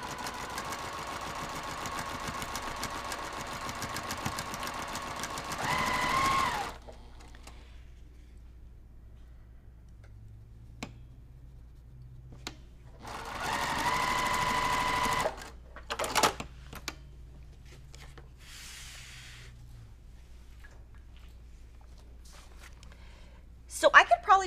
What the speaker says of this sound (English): So now I'm gonna just sew.